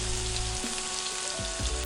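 Food sizzles steadily in a hot pan as potato stew ingredients are stir-fried, with a few soft scraping stirs breaking through the constant crackle.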